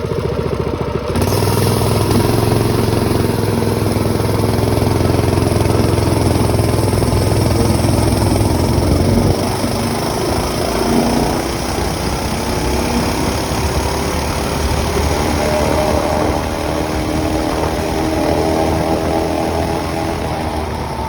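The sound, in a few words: Harbor Freight Predator 212 engine running with governor bypassed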